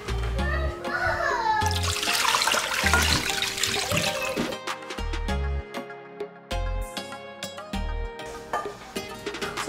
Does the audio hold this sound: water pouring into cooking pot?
yes